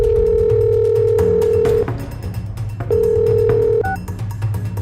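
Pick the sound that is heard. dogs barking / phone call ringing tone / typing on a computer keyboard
phone call ringing tone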